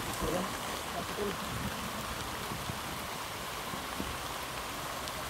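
Steady heavy rain hisses without a break, with a faint voice briefly heard underneath.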